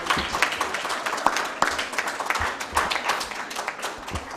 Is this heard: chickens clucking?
no